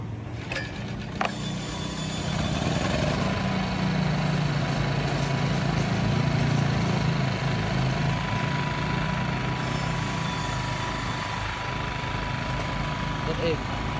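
An old Japanese Elemax SH1000 mini portable generator, rated 850 VA, runs steadily with a continuous low engine drone and mechanical rattle, close and fairly loud throughout, with a few clanks near the start.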